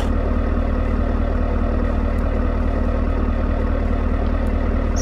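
A heavy twin-turbocharged V8 in a BeamNG driving-game car idles with a steady, loud low rumble that holds even throughout, with no voices.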